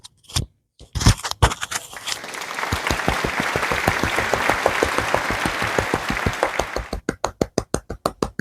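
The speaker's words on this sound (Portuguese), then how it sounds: "E isso daí tem que dar uma salva de palmas." Applause swells from a few scattered claps into a dense burst of clapping, then thins to a run of distinct, evenly spaced single claps at the end.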